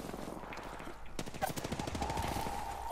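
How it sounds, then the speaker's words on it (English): Rapid automatic gunfire in the Apex Legends video game, a fast burst of shots erupting after a brief quieter stretch and continuing to the end, with game sounds around it. "Being shot at."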